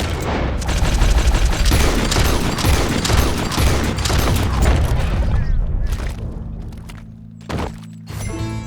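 Loud, dense gunfire from Red Dead Redemption 2 rattles in rapid bursts for several seconds, then eases off into a few scattered heavy thumps and shots.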